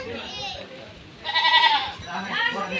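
Goats bleat repeatedly nearby in a village, long wavering cries rising and falling, with people talking in the background.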